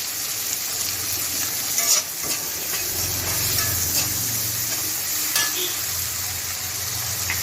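Tomatoes fry in a pan for Tamil paruppu urundai kuzhambu, giving a steady close sizzle and hiss broken by a few sharp stirring scrapes, with no talking.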